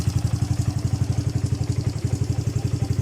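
A Honda Wave 110i motorcycle engine, freshly fitted with a new cam chain, idles steadily up close, with a fast, even chugging pulse and a light mechanical clatter throughout.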